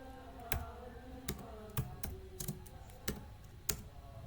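Typing on a computer keyboard: sharp, irregular key clicks in a loose rhythm over a low steady background hum, close-up with no voices.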